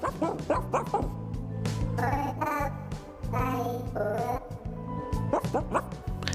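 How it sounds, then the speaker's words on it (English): Cute little cartoon dog woofs, yips and whimpers from the platform video game Grapple Dogs: Cosmic Canines, several short playful barks in a row over light game music. "The game has no voice work and prefers to tell the story using subtitles and cute little woof sounds"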